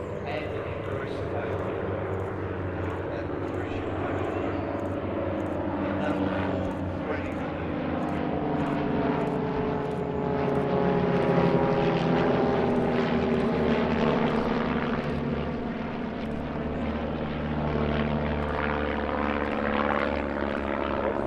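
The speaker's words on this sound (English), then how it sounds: "one of the most successful kit planes currently on the market, with a 180 horsepower Lycoming IO360 engine" A kit plane's 180 horsepower Lycoming IO-360 propeller engine drones loudly and steadily overhead during an airshow aerobatic display, its pitch sweeping up and down as it maneuvers, with continuous rushing noise throughout.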